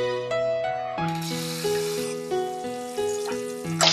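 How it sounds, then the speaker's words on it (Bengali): Garlic hits hot white oil in a pan and sets off a steady sizzle that carries on for a few seconds, partly masked by melodic background music. "তেল গরম হয়ে গেছে, আমি এখন রসুন দিয়ে দিচ্ছি।"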